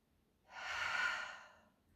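A single slow, breathy exhalation or inhalation swells up after a quiet start, holds steadily for about a second, then fades, close and soft, with no talking, as part of a shoulder-opening posture exercise in a balance session.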